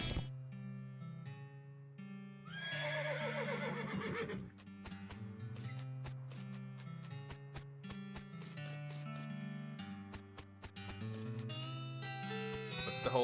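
A horse neighs and whinnies in the western-themed video game West of Loathing, a loud drawn-out whinny followed by clip-clop hoof sounds over steady background game music, with no talk.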